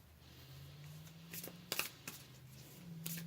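Tarot cards shuffled and pulled from the deck, a soft riffling followed by a few crisp snaps and flicks of card stock, close and quiet, with no talk.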